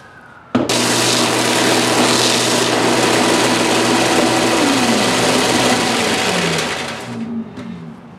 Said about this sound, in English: Even though this is a softer wood, it's still real hard to sand. Okay, so I'm going to do all four sides with this.